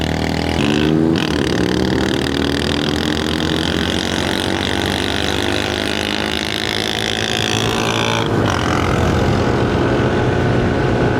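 Yamaha NMAX Techmax 155 scooter engine accelerating hard to overtake, a steady loud drone of engine and road noise with rising pitch, plus a brief whoosh of passing traffic near the start and again after eight seconds.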